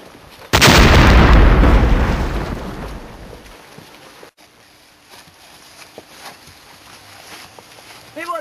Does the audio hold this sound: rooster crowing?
no